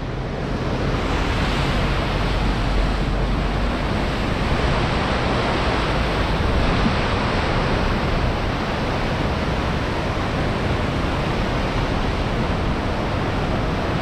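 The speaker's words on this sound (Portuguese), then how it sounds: "Aqui do outro lado já mostrei, a corredeira é mais forte" River rapids at Cachoeira de Emas, a constant loud rushing roar of churning water, close and unbroken throughout with no voices.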